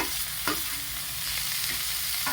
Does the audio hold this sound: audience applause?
no